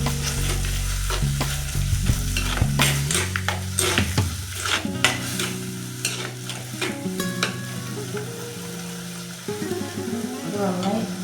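Crushed shallots fry and sizzle in a pan while being stirred for a spicy Kerala sardine curry with kudampuli, with steady close frying hiss, scraping and stirring clatter throughout.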